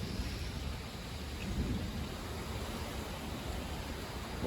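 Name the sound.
thunderstorm with rain and wind in Florida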